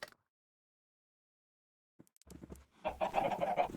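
A Minecraft chicken clucks in the video game; after a stretch of silence, a few short clucks start, then a busier run of clucking near the end.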